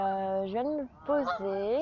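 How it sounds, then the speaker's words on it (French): Ducks in a park in Melbourne give drawn-out, nasal honking calls, two or three in a row, close by and loud, while a voice speaks briefly. "si vous entendez des bruits un peu bizarres, c'est les canards."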